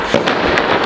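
Diwali firecrackers go off in a quick burst of sharp pops and crackles, several bangs within under a second, loud and close with no talking.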